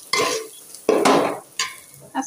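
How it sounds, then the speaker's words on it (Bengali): Polao rice fries in plenty of oil in a wok, with three or four loud bursts of scraping, stirring and sizzling separated by brief quieter gaps, close and without talk. "তারপরে দেখো পোলা চাউল ভাজছি"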